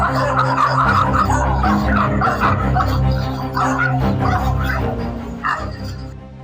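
A dog barks and yips repeatedly over a loud, dense background, the barks close and insistent, with some whimpering mixed in.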